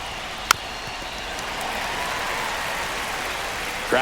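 Steady crowd murmur fills a stadium during a ninth-inning, one-run game in MLB The Show baseball on PS5, a continuous wash of distant voices with one sharp click near the start and a brief rise at the end.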